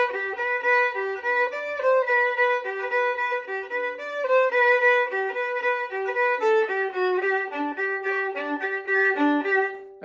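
A solo violin plays the first violin part of a Vivaldi piece, a continuous flowing melody of bowed notes that shift steadily in pitch, close and clear with no talking.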